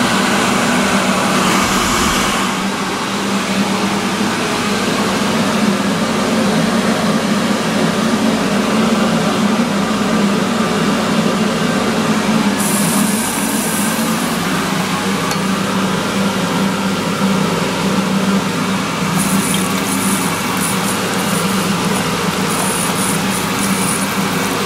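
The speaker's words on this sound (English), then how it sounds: "Push button hand dryer." A push-button hand dryer in a bathroom blows continuously, a loud, steady roaring whoosh of air with a motor hum that runs unbroken for the whole stretch.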